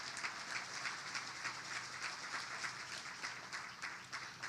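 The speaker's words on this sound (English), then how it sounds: "So he's not with us, but yeah, give him a round of applause." Applause from an audience at a jazz show: a faint, steady patter of many hands clapping at a distance, with no voices over it.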